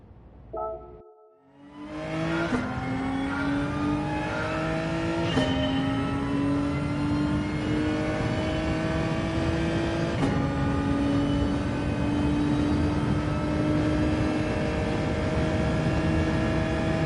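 A G70 car engine in a racing video game, fitted with hard tyres, revs up steadily with a rising whine that climbs through several gear shifts, loud and continuous without any voices.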